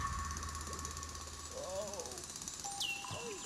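Rock being drilled in the mining video game Manic Miners, a steady loud mechanical jackhammer-like rattle running throughout with game effects layered over it.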